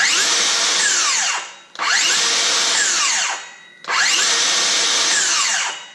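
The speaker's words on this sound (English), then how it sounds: "Here is the skill saw, if you want to hear this run." Dewalt 60V cordless circular saw running free, three loud whining bursts each spinning up fast and winding down quickly under its brake, close up with no talk.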